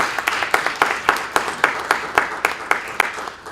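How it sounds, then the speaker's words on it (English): Applause at the end of a panel session on legal rights in continuing care retirement communities, with distinct claps in a moderately steady rhythm from a modest audience, close and fairly loud. "Let's give them a big round of applause."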